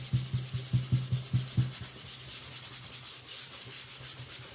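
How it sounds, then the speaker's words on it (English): Sandpaper rubs over the edge of a painted wooden sign, a quiet close scratching with a regular back-and-forth rhythm that blurs into steadier rubbing, with no talking. "I am going to grab that sandpaper"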